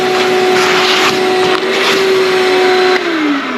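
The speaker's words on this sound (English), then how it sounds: "So your handy dandy shop vac is going to be the way to go" A shop vac sucks up Coosa board dust while a boat is being modified, a loud, continuous close whine with a steady high tone that drops slightly in pitch near the end, with no talking.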